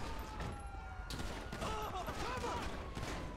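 Gunfire in the video game GTA Online rattles on under a constant wash of game noise and engine drone, sounding steady and dense rather than as distinct separate shots.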